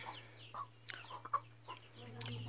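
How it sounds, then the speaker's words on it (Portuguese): Chickens on a small farm cluck softly in short, scattered calls over a low steady hum, fairly faint and close. "Olha as galinhas."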